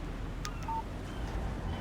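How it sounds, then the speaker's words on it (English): A phone text message alert sounds in the video game Alan Wake as a couple of brief, quiet electronic beeps over a low steady hum. "Text message from Barry"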